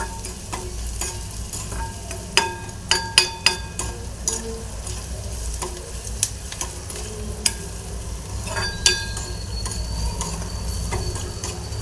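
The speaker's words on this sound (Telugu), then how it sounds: "ఉల్లిపాయలు కొంచెం కలర్ మారిన దాకా ఇలా వేయించుకోవాలి" Onions frying and sizzling in a pan with salt added, a steady crackle broken by sharp clinks and scrapes of a spatula stirring them, close and moderately loud.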